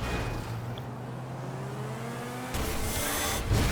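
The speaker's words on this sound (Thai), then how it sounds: "ขับรถคันนี้แหละไปกันเลยดีกว่านะครับ" Engine of a car driven in GTA V, a steady loud drone with a low tonal hum and rising whine, the mix shifting abruptly near the end as the car speeds along.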